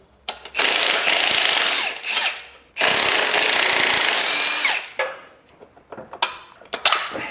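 Power tool work on the upper wishbone of a V12 BMW 850i suspension with a worn-out ball joint: two long, loud bursts of drilling or impact-driving, then shorter creaks, clanks and ratcheting bursts, close up with no talk.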